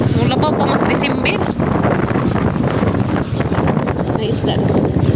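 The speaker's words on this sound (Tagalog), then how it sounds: "Grabe bugnaw na maghangin." Strong cold wind blowing outdoors, a loud continuous roar buffeting the microphone with rumbling gusts, while a person talks over it.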